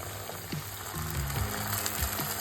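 Onions frying in a pan for egg pulusu as tamarind juice is poured in; a steady sizzle and crackle with faint metallic clinks of a spoon or pan, no talking.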